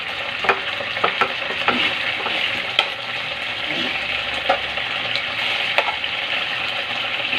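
Pork barbecue and sauce sizzling loudly in a non-stick pan, stirred with stainless tongs, giving a steady bubbling fry with repeated soft clicks and scrapes of metal against the pan.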